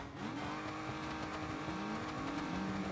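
A simulated car engine, an Automation-built car driven in BeamNG.drive career mode, holds a steady, faint idle-to-low-rev drone throughout, with no talking.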